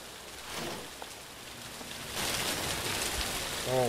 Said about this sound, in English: That loud rain is not making it better at all.